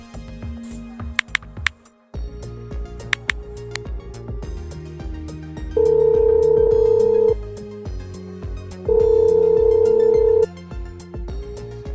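Phone tones sound over background music: a steady tone, then two long, loud beeping dial-style tones a few seconds apart.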